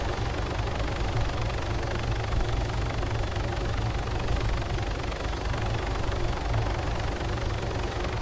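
A helicopter engine in ARMA 3 drones as a dense, steady rumble filling the whole stretch, loud and unbroken, with no clear voices.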